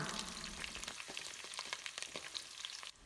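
Fenugreek seeds and six slit green chilies frying in oil for beef pickle, a bright crackling sizzle with quick stirring scrapes throughout, fading abruptly near the end.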